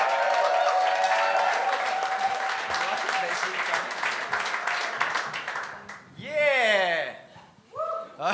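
A comedy show audience applauds loudly in a dense burst of clapping that tapers off, followed by someone speaking and some crowd whooping.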